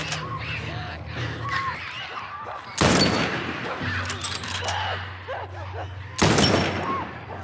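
Gunfire in The Last of Us Part I on PS5: two loud, close shots burst out a few seconds apart, each followed by a ringing tail, amid game ambience and creature cries.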